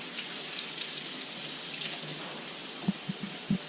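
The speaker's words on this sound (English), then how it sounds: "I'm just going to wash my hands." Running tap water splashes steadily at a kitchen sink while hands are rinsed of raw steak juice, a soft constant hiss with a few louder splashes near the end.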